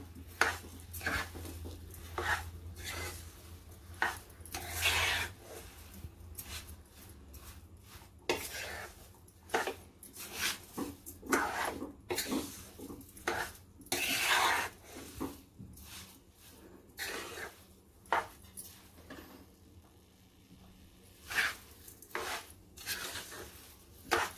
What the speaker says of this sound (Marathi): साखर चांगली मिक्स करून घ्यायची आहे.